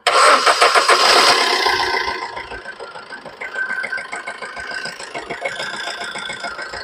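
A second-hand Maruti Ritz diesel car cranks and starts abruptly, then settles into a steady, rattling diesel idle nearby.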